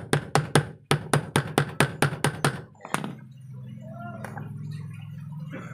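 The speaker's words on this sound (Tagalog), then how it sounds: "So ito pukpukin na natin sa martilyo to." About a dozen sharp metallic hammer blows in a fast, regular rhythm on a washing machine part, close and loud, then a final strike followed by a low lingering hum.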